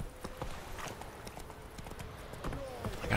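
Horse hooves clip-clop at a steady walking pace, rhythmic and moderately close, with a faint background murmur, in the video game The Witcher 3: Wild Hunt.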